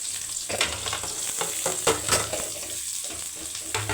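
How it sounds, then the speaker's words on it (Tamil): Mustard seeds and onions fry in hot oil for a beetroot stir-fry, making a close, continuous sizzle with scattered crackles and scraping stirs, with no voices. "எண்ணெய் காஞ்சிருச்சு, கடுகு போட்டுடலாம். வெங்காயம் போட்டுடலாம்."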